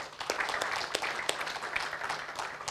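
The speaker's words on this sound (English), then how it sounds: "let us give an applause to them" Conference audience clapping in appreciation for the organizing committee, a steady patter of many hands at moderate distance, fairly soft and continuous for a few seconds.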